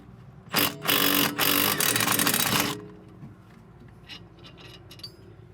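A ratchet or powered wrench spins out a hub assembly bolt on a Subaru BRZ rear hub, a loud close burst of about two seconds followed by quieter clicks and handling noises.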